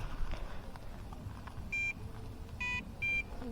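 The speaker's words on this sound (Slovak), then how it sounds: "Skontrolujeme si ešte, či to pípa." A carp-fishing bite alarm at a gravel pit is tested and gives three short, clear electronic beeps, the last two close together, over a quiet outdoor background.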